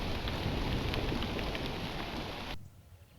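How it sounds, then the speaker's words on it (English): Hail pours down in a dense, loud, hissing roar of pelting stones throughout, then cuts off abruptly near the end, leaving quiet. "Luckily, the hailstorm is over soon."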